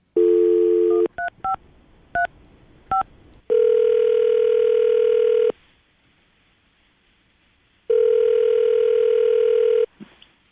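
A telephone call being placed: a short burst of touch-tone dialing beeps, then long steady ringback tones repeating with pauses between rings, clear and close with no talking.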